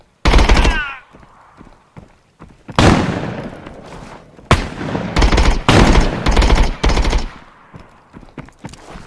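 Automatic gunfire from a hostile AI scav in the shooter game Contractors, loud bursts and rapid volleys arriving in several clusters with short quiet gaps between them.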